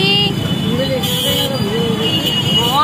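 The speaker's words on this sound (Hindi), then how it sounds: "बहुत ट्रैफिक रहता है गाइस यहाँ पे।" Busy road traffic near Holi Gate in Mathura, India, a steady hum of engines and passing vehicles with a horn tooting, heard under a person talking close by.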